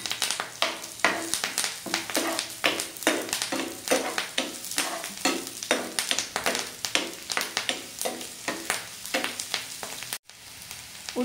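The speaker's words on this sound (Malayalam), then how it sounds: "ഞാനിപ്പോൾ കറിവേപ്പിലയും ഇഞ്ചിയും ആ ഉള്ളി അരിഞ്ഞതും എല്ലാം കൂടി ഒരുമിച്ച് അട്ടിട്ട് കൊടുക്കുന്നത്. ഇനി ഒന്ന് വഴറ്റി കൊടുക്കാം." Curry leaves, ginger and chopped onion sauté in a pan for a chicken liver curry, a continuous close sizzle under quick, rhythmic scraping strokes of a spoon, with no talking.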